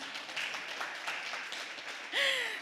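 A lecture audience applauds, a faint, steady patter of clapping from a distance, with a voice speaking over the end.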